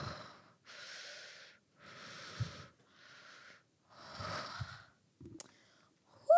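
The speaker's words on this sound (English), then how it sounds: "I was breathing so hard through that." Heavy breathing after an intense rhythm game session, several long loud exhales and inhales in slow succession, close to the microphone, with a sharp sniff or gasp near the end.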